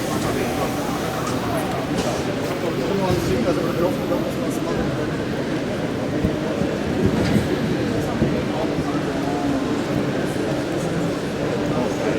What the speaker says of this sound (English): Actually, they're running 4 trains.